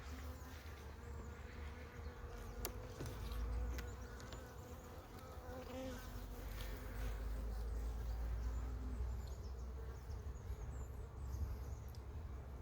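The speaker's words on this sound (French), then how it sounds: "J'ai une guêpe là-dedans." A wasp buzzing inside a beehive, a close, continuous insect drone layered over the hive's steady hum, wavering in loudness but never stopping, with no talking.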